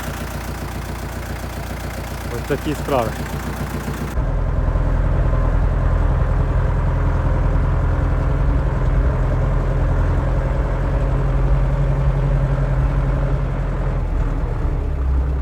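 A loud, steady tractor engine rumbles and drones up close, jumping louder after a few seconds, with a brief voice speaking over it early on.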